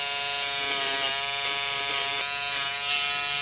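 A stitch eraser buzzing steadily as it cuts through embroidery thread on a jacket, a close, continuous electric hum with slight pressure changes and no talking.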